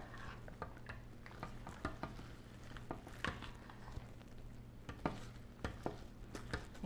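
Thick brownie batter with chocolate chips stirred in a bowl: a faint, irregular series of soft scrapes and small knocks under a low steady hum, quiet and close.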